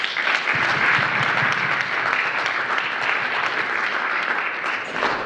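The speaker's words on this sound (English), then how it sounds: "So let's give all of them who make this possible a round of applause." A crowd gives a sustained round of applause at a talk about telling a café's story, dense and steady clapping that holds loud throughout, with no voices over it.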